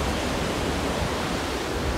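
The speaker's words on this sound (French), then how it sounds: "Ouais, il y a des vagues." Sea waves near a coastal basin make a steady, fairly loud broadband roar that carries on without clear breaks or individual crashes.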